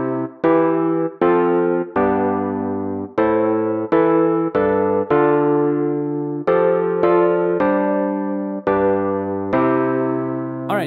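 A sequence of major chords from a Maschine chord-mode preset, played one after another in an uneven progression, each sustained chord ringing full and loud before the next strike, with no voices.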